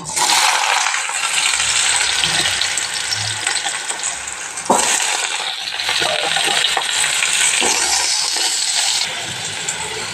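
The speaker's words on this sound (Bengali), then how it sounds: "আলুটা ভাজা হতে থাক লাল লাল করে।" Potatoes frying in hot oil in a kadai with turmeric, a loud close continuous sizzle with a sharp clink or stirring knock midway and a slight easing near the end.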